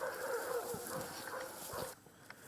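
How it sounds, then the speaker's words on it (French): Dogs bark in the distance during a nighttime Israeli army operation, giving faint, scattered woofs and yelps over a steady hiss of outdoor background noise before it drops away. "Seuls les aboiements de chiens au loin se font entendre."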